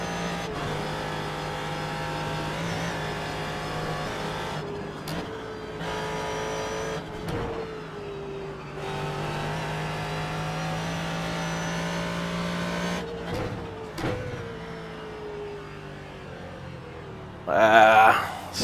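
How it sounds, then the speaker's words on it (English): A Ford GT3 race car in iRacing at Virginia International Raceway, engine held at full throttle with a loud, sustained buzzing tone rising and dipping through shifts and corners, brief breaks between, and someone talking over it. "Pretty much rotating the car with full throttle."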